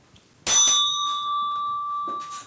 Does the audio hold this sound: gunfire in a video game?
no